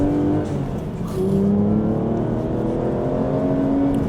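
A deep 6-litre V12 engine in an Aston Martin V12 Vantage competition race car roars loudly up close, rising and falling in pitch as it revs and accelerates continuously.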